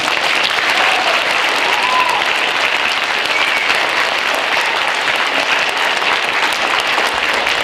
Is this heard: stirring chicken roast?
no